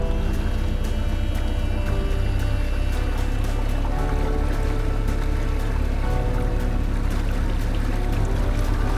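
Continuous rushing, churning water with a low rumble, loud and steady throughout, as water drains out of a canal lock chamber on the Erie Canal.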